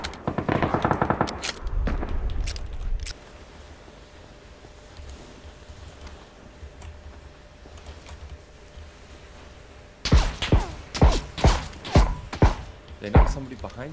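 Bursts of gunfire from a video game shooter, fired by an AUG rifle, loud at the start and again as a rapid series of sharp shots near the end, with quieter game ambience between.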